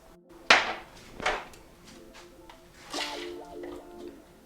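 Sweet corn tipped into a pan of chickpeas lands with a sharp wet thump, followed by a few softer squelches and plops spaced out over the next few seconds.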